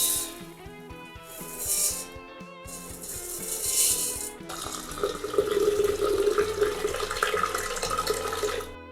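Water pouring and splashing into a vessel to soak rice for a Dindigul veg biryani, two short bursts followed by a steady, louder flowing gush, close and without speech.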